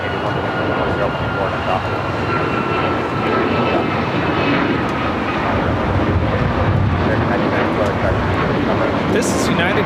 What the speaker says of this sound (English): This is United Airlines Flight 405 taking off to Boston on the MAX 9